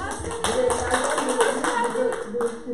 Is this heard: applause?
yes